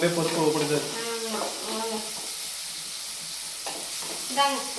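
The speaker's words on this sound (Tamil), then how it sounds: "எண்ணெய் ஊற்றிட்டேன் வெங்காயம் பச்சை மிளகாய் ரெண்டும் சேர்த்துக்கலாம்" Onion and green chili fry in hot oil with a steady sizzle and stirring noises, while a person talks over the cooking throughout.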